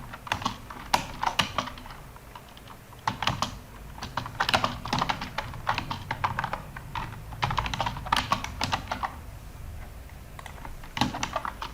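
Rapid, uneven bursts of key clicks as an address is entered on a computer keyboard while setting up an Amazon seller account, close and fairly quiet, with short pauses between runs of typing.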